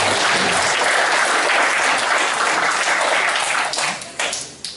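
At a youth crime-prevention volunteer ceremony in Gumi, the audience applauds attending guests with loud, dense clapping that runs steadily before thinning and fading out in the final second.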